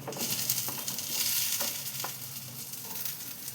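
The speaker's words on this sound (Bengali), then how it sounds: "আলুগুলো দিয়ে এবার চালটার সাথে মিশিয়ে নেব।" Fried potato pieces stirred into Gobindobhog rice frying in a pan, a steady sizzle with soft scraping strokes repeating through the short stretch, close and alone.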